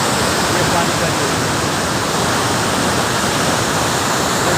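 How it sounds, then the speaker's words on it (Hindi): Powerful river water rushes through the Head Marala headworks, a loud, steady, broadband roar that stays constant throughout with no pauses. "ये देखिए, ये देखिए पानी का जोश"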